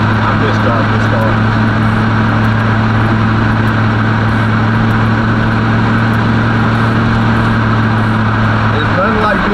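A Cutlass car rolls along with a steady, loud low engine drone and constant road and wind rumble filling the cabin, unchanging for the whole stretch.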